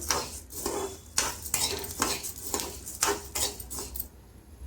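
Puffed grains (pelalu) roasting on a hot pan while being stirred, a rhythmic series of scraping, rattling strokes about every second, close and fairly loud, with a faint sizzle under it and no speech.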